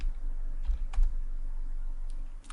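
Rapid tapping on a computer keyboard, a short run of close, fairly faint key clicks over a steady low hum, with no speech.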